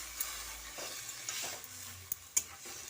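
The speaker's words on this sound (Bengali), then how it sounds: "এবার শাকটা দিয়ে হালকা করে একটু নেড়ে চেড়ে নিচ্ছি" Bottle gourd greens (lau shak) are stirred in a pan over a faint background sizzle, with soft scraping and a few sharp spatula taps against the metal.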